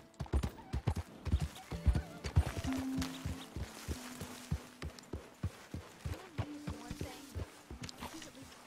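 Horse hooves clip-clop at a steady walking pace in Red Dead Redemption 2, close and distinct, with a few whinnies and some game speech between the steps.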